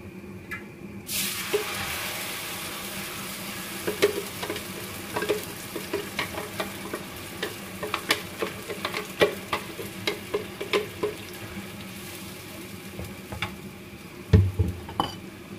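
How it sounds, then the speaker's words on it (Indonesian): A steady sizzle of blended spice paste frying in a pan for duck rica-rica, broken by repeated scraping and clinking of a utensil stirring, close up and continuous. "Sekarang saya mau numis bumbu untuk bebek rica-ricanya ya."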